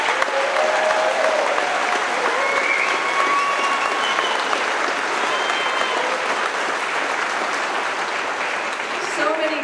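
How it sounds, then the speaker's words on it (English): A crowd at a trucking company's monthly celebration claps and cheers loudly and steadily for the whole stretch, applause filling the space without pause. "let's do some clapping and yelling and for all of these anniversaries."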